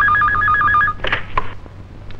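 A telephone rings with a rapid warbling trill, followed by a few clicks and handling noises as the ringing stops.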